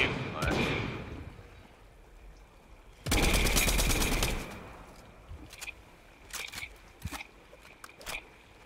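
Gunfire in the video game Fortnite: an early shot, then a loud sustained burst of automatic fire, followed by several sharper single cracks, with players talking.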